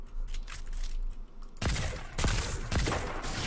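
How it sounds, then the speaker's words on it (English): Gunfire erupts in a video game in which a player is hit by a hidden sniper: a few sharp, loud shots against low background sound, with a dense burst of reports in the second half. "I got sniped from the invisible sniper."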